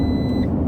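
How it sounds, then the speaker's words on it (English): A car's low-fuel warning chime gives a single short, faint beep over a steady engine and road hum inside the cabin. "You heard that beep? That's my damn gas."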